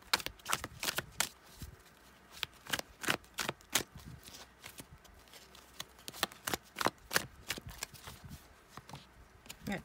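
Tarot cards being shuffled by hand in a quiet room, a brisk run of crisp riffles and slaps with short pauses between bursts.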